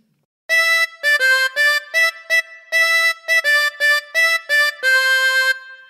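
Harmonica playing the Mary Had a Little Lamb phrase: a sequence of clear, reedy single notes blown and drawn in a simple melodic rhythm, close and unaccompanied, ending on a longer held note.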